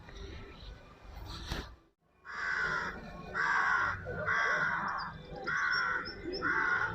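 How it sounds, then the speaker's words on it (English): Crows cawing in a cemetery, a series of about five harsh, evenly spaced caws repeating in a steady rhythm at moderate distance, after a brief thump and a short hush. "Hear the crows out."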